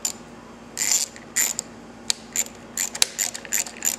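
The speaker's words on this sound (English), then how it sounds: "Make sure when you're tightening this up, the top of the bolt doesn't spin." A nut is tightened on a Victory motorcycle clutch lever, giving a quick series of close, bright metallic clicks and ratcheting ticks in short irregular bursts.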